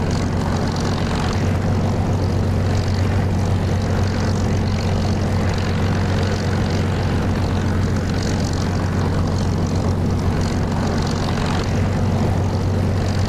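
Propeller aircraft engine in the DCS flight simulator, a steady droning hum with strong low tones, held at the end of a runway, continuous and loud throughout with no talk.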